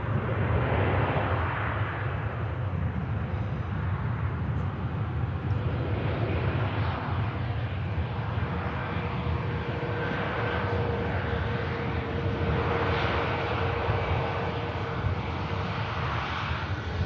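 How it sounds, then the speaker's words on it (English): A jet aircraft landing at Manchester Airport on a breezy day, a steady broad roar with a faint whine running throughout, moderately distant and unbroken. "Caught a bit of breeze from the hump, but getting the aircraft down lovely and tidy"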